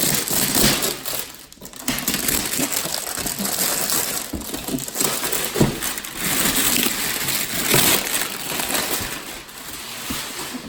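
Plastic packaging and cellophane around a Traxxas Slash Ultimate RC truck crackle and crinkle steadily as the box is opened, a close, continuous rustle with small knocks and no voices.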